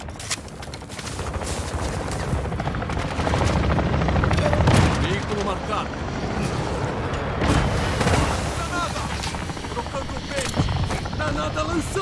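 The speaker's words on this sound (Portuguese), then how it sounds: "VTOL inimigo no ar." In Call of Duty, an enemy VTOL aircraft drones overhead with a steady rotor-like roar, layered under bursts of automatic gunfire, booms and game voices talking throughout a busy battle.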